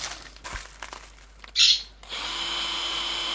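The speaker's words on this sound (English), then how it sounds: "Drill your pilot holes for your little screws just to hold it in place." A few handling knocks and clicks, then a short high-pitched drill burst drilling pilot holes for small screws while building a portable router table, followed by a steady whirring hum.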